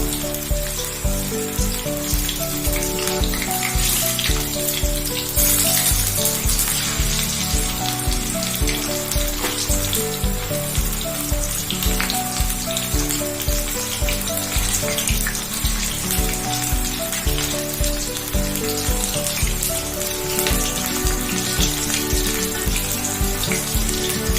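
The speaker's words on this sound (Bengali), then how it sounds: "এবার আমরা চিকেন পকোড়াগুলোকে এক এক করে তেলের মধ্যে ভাজতে থাকবো" Chicken pakoras deep frying in hot oil give a loud, dense, continuous crackling sizzle with dripping-like pops throughout, steady and close with no talking.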